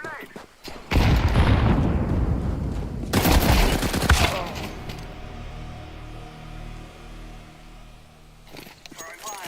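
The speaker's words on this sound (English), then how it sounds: "I'm throwing a grenade." Grenade tossed and detonating in a first-person shooter game, with heavy booming blasts and gunfire bursts near the start and again mid-clip, a lower rumbling tail, and a player talking over the action.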